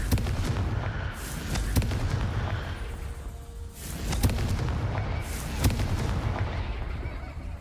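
Repeated Confringo fire spell blasts in Hogwarts Legacy, a series of sharp cracking explosions spaced a second or so apart, each with a booming low tail over rumbling game background.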